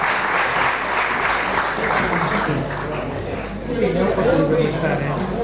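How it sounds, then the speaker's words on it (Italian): An audience at an athletics festival applauds a club president, a steady wash of clapping with people talking over it near the end. "Volevo soltanto che voi faceste un grosso applauso a lui."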